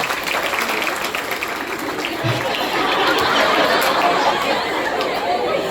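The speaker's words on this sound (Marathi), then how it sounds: "जोरदार टाळ्या तिच्यासाठी वाजवा" An audience at a parents' gathering breaks into applause mixed with crowd chatter and light laughter. The clapping is dense and builds in the second half, with voices murmuring underneath.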